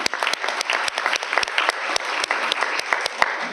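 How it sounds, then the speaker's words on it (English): A school board meeting audience gives teacher cadets another round of applause, with dense clapping and sharp individual claps standing out throughout. "Let's give our teacher cadets one more round of applause."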